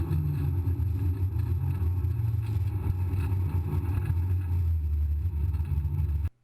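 A racing car rumbles into the pits at Cadwell Park, its engine note low and steady with a loud droning hum throughout before cutting off abruptly at the end.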